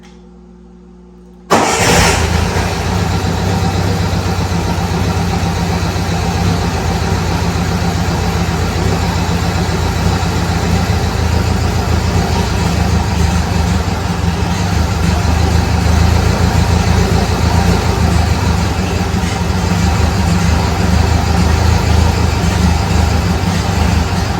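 An old Bobcat 610 skid steer engine turns over and catches after a moment of quiet, then settles into a loud, steady low idle that runs on without change.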